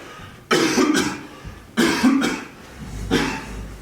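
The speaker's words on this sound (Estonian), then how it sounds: "Ainult see kopsuhäda, mis mind köhima paneb." Harsh coughing from a lung ailment in a theatre-group rehearsal: three loud, separate bursts, each a short cluster of barking coughs, heard up close with no talk over them.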